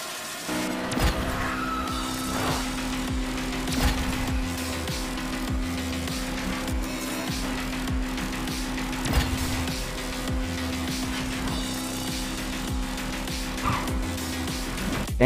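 A car racing and drifting in Asphalt 9 Legends, with steady engine drone, screeching tire squeals and occasional impacts over game music, continuous and loud.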